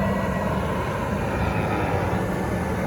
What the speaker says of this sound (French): Désolé pour l'avion qui passe.